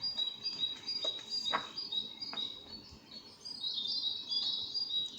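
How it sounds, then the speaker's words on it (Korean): A nightingale sings in bright, high chirping phrases, repeating short trills with a denser warbling run toward the end, heard alone and fairly near. "The nightingale sang, and the inchworm measured the way."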